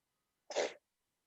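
A single sharp sneeze bursts out close by, short and forceful, with silence on either side.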